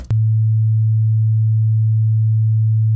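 110 Hz sine wave test tone: a steady, loud, pure low hum that starts abruptly and holds unchanged to the end, with nothing else heard.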